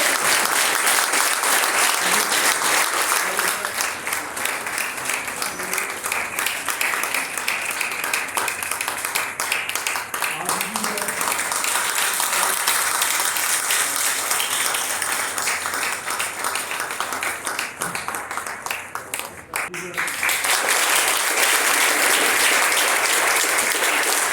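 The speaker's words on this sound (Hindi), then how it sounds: "लगातार तालियां बजती रहनी चाहिए" An audience at a college NCC girls' battalion event applauds continuously for over twenty seconds, a dense, loud wash of clapping that dips briefly near the end before swelling again.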